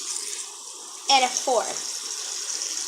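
Water poured into a mixing bowl while baking, a steady hiss with two short gurgling splashes midway, close by, with a voice speaking briefly over it.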